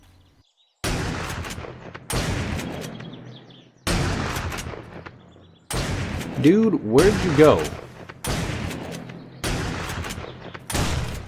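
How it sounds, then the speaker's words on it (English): Loud gunshots in a survival video game, roughly eight sharp booming blasts spaced a second or two apart, each with a decaying echo, with someone briefly speaking between shots. "gunshots in this game are really loud, and you will probably get really annoyed by them"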